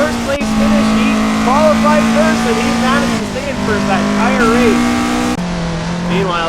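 AE-86 race car engine at Lime Rock in a racing video game, with a loud, continuous droning engine note that rises and falls through gear changes and corners while a commentator talks over it.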